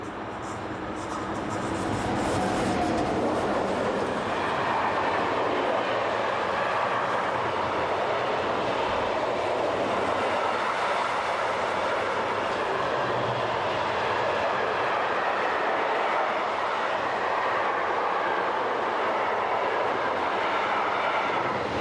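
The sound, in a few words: electric locomotives hauling Italy-bound mixed freight train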